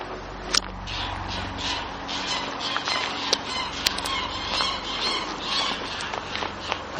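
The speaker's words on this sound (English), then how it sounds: "so we got the squawking geese again, the same trio as before" A trio of geese squawks repeatedly at a French marsh, Marais de Beauchamp, their harsh honks coming in irregular bursts over steady outdoor background noise, fairly close and moderately loud.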